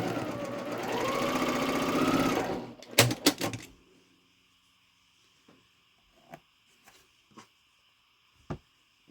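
Sewing machine stitches quilt block pieces in a fast, steady whir for about three seconds, then a few sharp clacks and scattered faint handling knocks follow in near silence.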